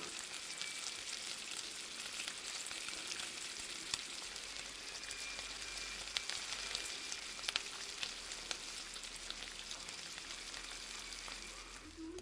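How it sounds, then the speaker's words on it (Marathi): Thin, savory shankarpali dough pieces deep-fry in oil over medium heat, giving a continuous, even, moderately quiet bubbling sizzle with a few faint crackles and no talk. "आता ह्या ना आपण एक एक करून सोडल्या ह्या जास्त जाड नसतात पातळ असतात"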